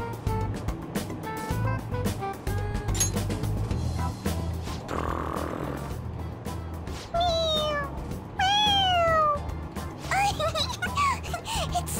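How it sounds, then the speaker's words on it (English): In Persona 5, a squeezable toy cat gives several bright, rising meows in quick succession as it is pressed, mixed with voices talking over steady background game music. "It meows when you press on its head."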